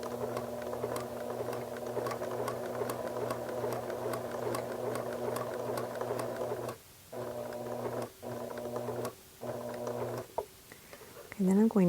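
A sewing machine back stitches knit fabric in a steady rapid hum with a rhythmic needle beat, stopping and restarting several times in short pauses before a few final clicks.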